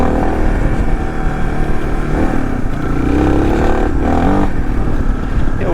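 Suzuki DR motorcycle with an old CV-style carburetor running steadily nearby, a continuous loud engine drone with slight changes in revs throughout.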